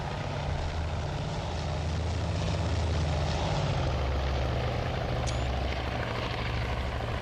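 A carrier aircraft lands in the naval strategy game Task Force Admiral, with a continuous propeller-engine drone and rumble holding steady throughout at moderate level, with no talk over it.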